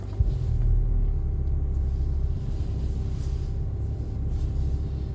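Cheap used Subaru car driving around the block on a cold day, heard from inside the cabin as a steady low engine and road rumble that stays constant throughout.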